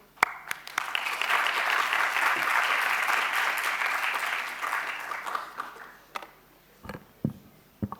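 An audience at a data science for smart cities talk applauds to welcome a speaker, a sustained wash of clapping that swells, holds for several seconds, then tapers off into scattered claps and small knocks.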